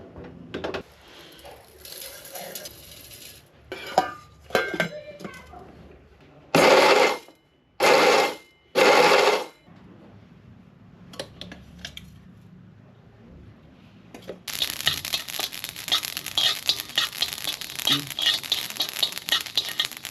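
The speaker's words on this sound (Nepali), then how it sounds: "यसलाई चाहिँ खस्रो हुने गरी पिर्नुपर्छ" A spice grinder whirs in three short, loud pulses, coarsely grinding whole spices including ajwain for pickle, with quieter clinks and rustles before and a steady hiss of background noise after.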